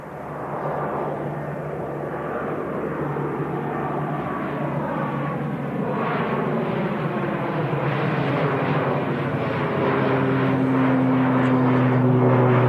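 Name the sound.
Loganair ATR 72 turboprop taking off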